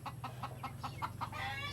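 Chickens clucking in a rural garden, a steady series of short repeated clucks about four per second, close and moderately loud over a low droning hum.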